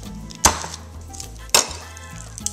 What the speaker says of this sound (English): And when you give it a smash like that, the peel comes right off.